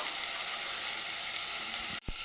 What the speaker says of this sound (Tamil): எண்ணெய் பிரிஞ்சு வர வரைக்கும் நம்ம கொஞ்சம் வெயிட் பண்ணணும் இந்த வெங்காயம் நல்லா வதங்கிட்டோம்